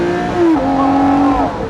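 A Lamborghini Murcielago LP640 Roadster's engine revs up, holding a loud, steady tone that climbs briefly in pitch and then settles, heard close with no talking.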